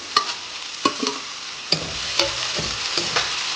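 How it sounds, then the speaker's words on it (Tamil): Sliced onion frying in a pan with a steady close sizzle, broken by a few sharp utensil taps and scrapes as it is stirred. No voices. "வெங்காயம் இங்கே நல்லா வணக்கணும்."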